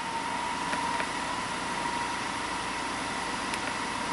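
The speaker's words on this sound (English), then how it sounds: "so I'm cruising 55 miles an hour on the lift" A Buick LeSabre engine runs steadily at a 55 mph cruise while the car sits on a lift, giving a constant mechanical hum with a faint whine and a couple of soft ticks, no voices.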